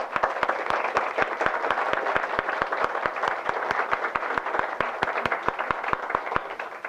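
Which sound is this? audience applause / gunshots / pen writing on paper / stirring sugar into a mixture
audience applause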